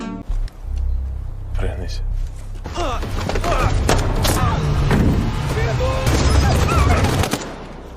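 Rapid bursts of gunfire crackle over a dense, loud action soundtrack, with sharp repeated shots and impacts continuing for several seconds.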